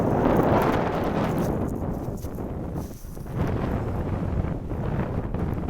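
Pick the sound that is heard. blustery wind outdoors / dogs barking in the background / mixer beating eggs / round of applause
blustery wind outdoors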